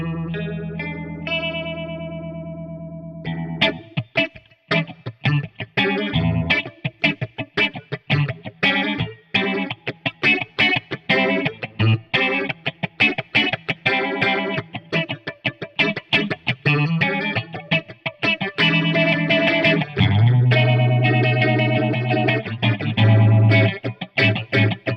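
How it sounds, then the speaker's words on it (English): A Mutation Phasor II electro-optical phaser pedal on a basic phasing setting, depth high and feedback near zero, sweeps a strummed, slightly driven guitar riff with a swirling, moving tone throughout, loud and unaccompanied. "Basic Phasing."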